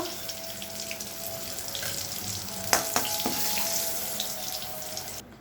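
Pointed gourd slices fry slowly in oil over low heat, a continuous close sizzle with a few sharp utensil clicks partway through.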